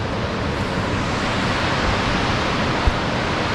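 Fast, shallow river rushing beside the Gartang Gali wooden bridge in Uttarakhand near Tibet, a steady broadband roar of churning water that stays even and close throughout with no voices.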